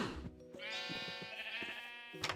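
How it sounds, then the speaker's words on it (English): A Minecraft sheep, one of a few purple baby sheep, gives a single drawn-out wavering bleat, close and clear, with faint game sounds around it. "I got a few purple baby sheep."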